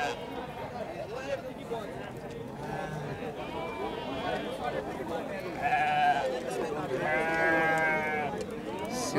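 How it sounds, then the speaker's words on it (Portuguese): Goats at a livestock market in Cachoeirinha, Pernambuco, bleat in a few nearby calls, louder toward the end, over steady crowd chatter and market bustle. "Cidadão tá aqui com um bode, né?"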